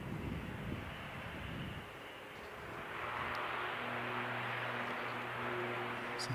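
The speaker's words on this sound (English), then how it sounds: "So this ATR is off to Wellington." An ATR turboprop airliner departs for Wellington, its engine drone steady and moderately distant, swelling slightly louder partway through and carrying a low tonal hum with some wind noise.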